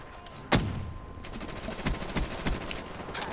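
Bursts of FFAR rifle fire in a video game, a loud opening shot followed by a rapid run of repeated shots against a steady background hum.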